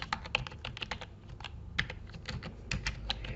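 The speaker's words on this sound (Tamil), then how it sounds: "நம்முடைய இதை வந்து டைப் பண்ணிகிட்டே போகலாம்" Rapid, irregular clicking of keys on a computer keyboard while text is typed into Microsoft Word, close and continuous with uneven bursts and no talking.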